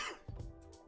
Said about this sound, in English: As I try not to die here post-COVID with this dry cough.